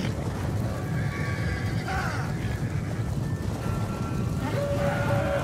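Horses neigh and whinny across a Medieval Kingdoms Total War 1212AD battle between Mongol horse archers and knights, several calls rising over a dense, steady rumble of cavalry and fighting.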